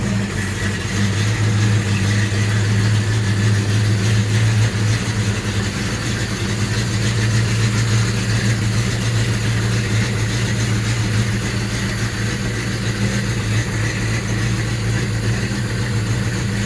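A cold big-block Chevy V8 fitted with Atomic MSD fuel injection runs steadily on a road test in Southern California, its deep, even rumble loud and close throughout with no talking.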